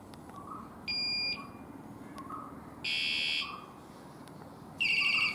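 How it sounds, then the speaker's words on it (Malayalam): A Hercules Topgear S29 R1 bicycle anti-theft alarm sounds three short electronic bursts, each about half a second long and roughly two seconds apart, with a distinct tone on each burst. The bursts are loud against a quiet background. "ഒന്നെന്ന് പറയുന്നത് അലാമിൻ്റെ സൗണ്ട് ചൂസ് ചെയ്യുന്നതിനുള്ളതാണ് ഫസ്റ്റ് ബട്ടൺ"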